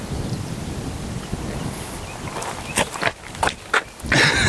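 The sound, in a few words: wind blowing on a disc golf course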